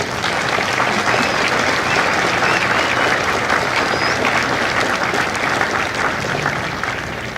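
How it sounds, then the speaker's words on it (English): Sustained applause from a large crowd at a Marine Corps recruit graduation ceremony in San Diego, loud dense clapping for the families of the company, holding steady for several seconds before tapering slightly. "Please join me in a round of applause for the families of Lima Company."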